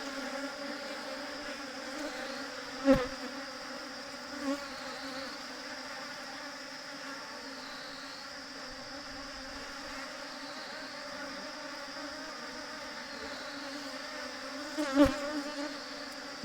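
Honeybees buzz steadily inside a merged colony hive with several queens, a continuous close drone with a couple of brief knocks against the box.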